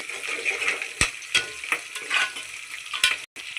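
Cloves and cinnamon frying in a pan for fish curry, stirred with a spoon: a steady close sizzle broken by several sharp scrapes and clicks against the pan, with no voices.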